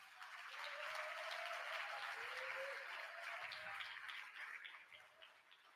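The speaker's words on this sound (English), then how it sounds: "Let's give them a round of applause." Sustained round of applause from a large audience at the 43rd World Scout Conference in Cairo, steady broadband clapping, fairly distant and soft, lasting throughout with a faint tonal voice beneath.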